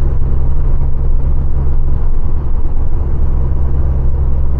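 A half-finished Volkswagen Beetle engine drones steadily from inside the car while driving, a loud, low rumble with constant road noise and no talking.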